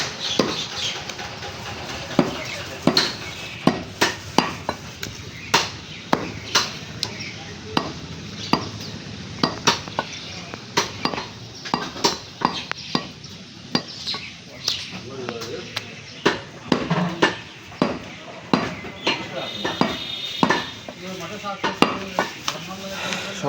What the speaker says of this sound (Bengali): আজকে সকাল সকাল সেই বুড়ো কষাই গোস্ত কাটছে।